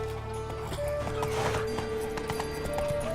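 Roach, the horse in The Witcher 3 video game, clip-clops steadily at a walk under looping game music, with a brief whinny and hoofbeats close and continuous throughout.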